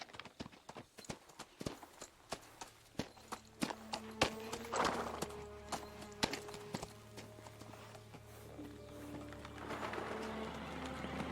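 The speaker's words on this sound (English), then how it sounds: "Those birds didn't sound like birds. They sounded like a guy going, caw, caw." Birds coo and call in the medieval video game Kingdom Come Deliverance 2, mixed with steady horse hoof clip-clops and a low ambient drone, moderately loud throughout.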